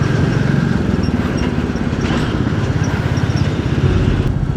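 A motorcycle engine drones steadily with a rapid pulsing rhythm during a long road ride from Kolkata to Digha, close and fairly loud throughout, with no one talking.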